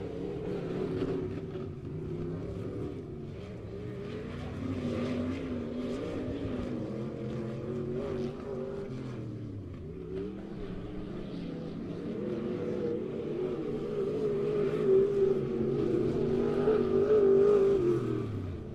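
Dirt track race cars lapping Bolivar Speedway, engines droning steadily and swelling louder toward the end as cars come off turn four down the front stretch, a continuous blended roar with no talk.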